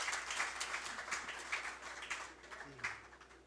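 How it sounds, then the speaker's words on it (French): Quiet audience applause at a Café Philo discussion event in Haiti, a steady patter of clapping from a small gathering heard at a modest distance. "Merci de l'applaudir."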